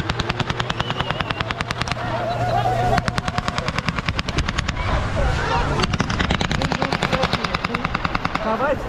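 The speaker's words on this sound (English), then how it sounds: "Yeah, shooting of guns." Guns fire in rapid automatic bursts at a Maslenitsa festival in Russia, a dense, loud clatter of sharp shots that continues throughout, with voices audible underneath.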